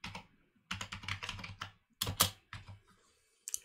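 Someone types on a computer keyboard, bursts of rapid close key clicks separated by short pauses, loud and alone.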